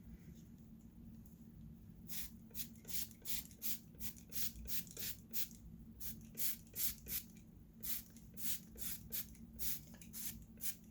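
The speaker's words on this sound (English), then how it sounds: "Just spray it around wherever needs it most." Repeated quick bursts of a moisturizing mist spray onto curly hair, about twenty sharp hissing puffs in an uneven rhythm, close to the microphone over a low steady hum.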